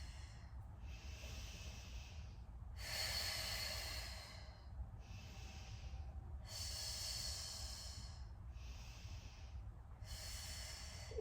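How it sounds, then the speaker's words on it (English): Deep breathing during a core exercise: slow, audible breaths close to the mic, alternating long airy inhales and exhales in a steady cycle of about four breaths over a low background hum. "Inhaling wide into the back of your lungs. Exhaling to lift your pelvic floor like an elevator."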